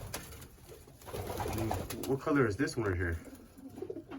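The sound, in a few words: barless racing pigeons cooing in a loft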